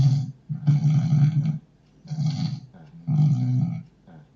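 A man snores loudly in three long, rasping breaths with short pauses between them, close up and with no talk over it.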